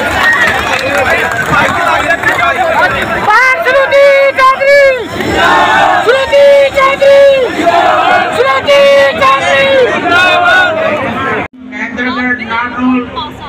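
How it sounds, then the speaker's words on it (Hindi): A large crowd at an outdoor protest rally in Bhiwani roars with loud, continuous cheering and shouting that swells in waves for over ten seconds, then cuts off abruptly and gives way to a single voice. "एक बार जोरदार तालियां बजा के स्वागत कीजिए।"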